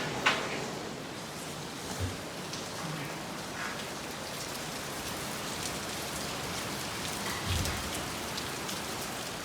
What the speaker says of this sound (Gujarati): બહાર શું જોરમાં વરસાદ પડે છે બતાવી દઉં.